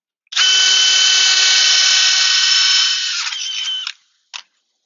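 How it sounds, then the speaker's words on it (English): A power drill bores a hole through a rolling barge hillside stair assembly, one loud, steady whine lasting about three and a half seconds and winding down, then a brief second burst. "And now I'll drill that out."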